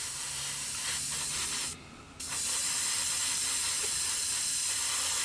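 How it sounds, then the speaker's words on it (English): Airbrush spraying a custom paint mix onto masked parts of a 1/48 scale Kinetic Pucara model aircraft: a steady close hiss running throughout, with a brief pause in the middle before spraying resumes. "these are going to be now just sprayed with that custom mix"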